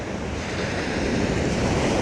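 Ocean surf on a wide beach a couple of hours before low tide, a steady broadband wash of waves with wind buffeting the microphone, continuous and fairly loud with no voices.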